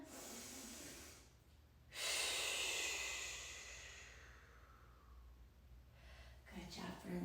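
Deep breathing during a children's yoga session: a long audible inhale swells and fades, followed by a softer exhale, with a voice briefly heard at the end.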